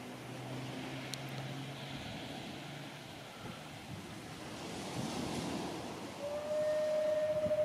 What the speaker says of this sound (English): a little bit of salute from the trains at Minehead Station